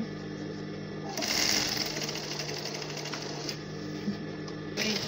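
A sewing machine stitches a zipper onto pants, its needle running in a fast steady chatter for several seconds with a brief pause and restart, close and loud with no talk.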